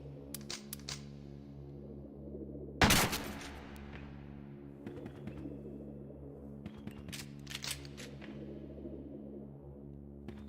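A gunshot in the horror video game Crow Country: one loud, sharp blast with a ringing tail, set against a steady low ambient hum and scattered faint clicks.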